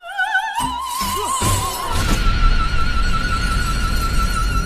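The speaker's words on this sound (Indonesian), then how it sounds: "barang-barang yang terbuat dari kaca pun pecah berhamburan" Glass objects shatter in a film scene, a loud crash and burst of breaking glass after a high wavering singing tone, followed by a sustained ringing note over scattering debris.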